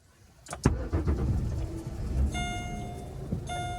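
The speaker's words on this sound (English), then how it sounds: "So car starter works in this car." A used car's engine turns over via remote starter and settles into a low idle, with two bright electronic chirps sounding from the vehicle.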